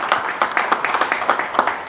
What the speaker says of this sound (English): Just huge round of applause and thanks.